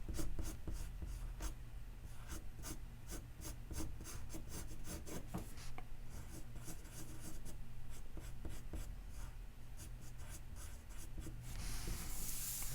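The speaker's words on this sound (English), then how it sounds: "thanks to the magic of the Blackwing pencil" A Blackwing pencil drawing on paper makes close, soft scratching strokes, quick repeated rasps in an uneven rhythm, quiet and alone without speech.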